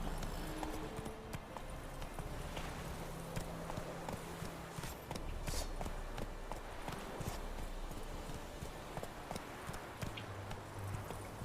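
Geralt's horse Roach galloping in The Witcher 3, fast continuous hoofbeats drumming at an even pace, soft and steady, with a faint neigh and faint background game sounds.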